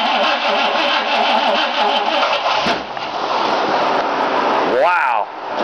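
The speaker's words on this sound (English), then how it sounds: "Wow, it's a big backfire." A propane-fueled Chevy engine cranks steadily and catches, then lets out a sharp, loud backfire near the end, close up with no talking.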